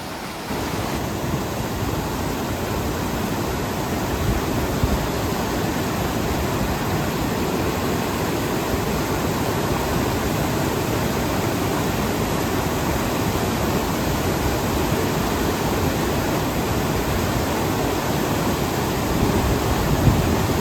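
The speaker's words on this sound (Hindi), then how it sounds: "ये है कफनी नदी जो आगे जाके मिल जाएगी पिंडर नदी में" Kafni river rushing along on the trek toward Pindari Glacier, a steady, loud broadband roar of fast water that holds constant from start to finish with no voices.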